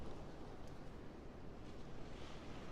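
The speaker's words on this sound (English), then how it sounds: "I hope you enjoy the personally recorded beach sounds" Ocean tide washing onto a beach, recorded in the field, a steady soft wash of surf with a faint breeze that stays low and even throughout, with no voices.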